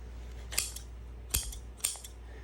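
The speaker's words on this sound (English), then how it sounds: "go back to the vinyl and see if we can get them to cut" Freshly sharpened upholstery shears snip through vinyl in three crisp, close cuts, each a short sharp crunch with pauses between them.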